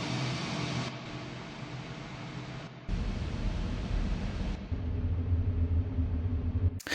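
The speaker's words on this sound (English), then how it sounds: "I made 4 or 5 different reverb tails just by using frozen reverbs off different samples" Frozen reverb tails built from several different samples form sustained, hissy background atmospheres, steady and noisy with abrupt changes in texture every few seconds and a sharp cut at the end.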